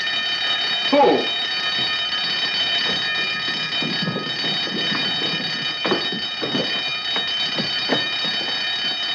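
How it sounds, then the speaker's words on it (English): An alarm bell rings continuously and loudly with a steady shrill tone throughout, while voices and scuffling movement sound faintly underneath. "Turn off the alarm."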